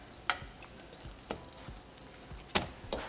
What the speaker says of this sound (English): I do like to fry them a little. So to my comal, I'm just going to add a little bit of oil.